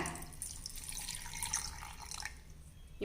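Water runs from a tap into a vessel to soak tamarind for veld grape thokku in a home kitchen, a steady close splashing and trickling stream lasting a few seconds with no talk.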